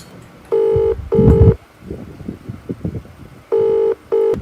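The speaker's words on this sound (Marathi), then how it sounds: "फोन लावा त्याला, फोन लावा." A telephone is dialed with two pairs of sharp beeping keypad tones, separated by a stretch of muffled handling noise and faint background sounds.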